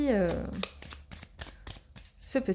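Oracle cards from the Graine de Lumière deck are shuffled in quick, close papery riffles and taps, with someone speaking at the start and end of the clip.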